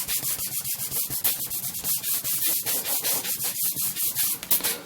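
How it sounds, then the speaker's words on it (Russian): Old denim cloth rubbed back and forth against a leather edge to polish it, a steady rhythmic scrubbing of about twenty quick strokes, close and fairly loud, with no voices. "Прикладываем ткань к нашему торцу таким вот образом и полируем"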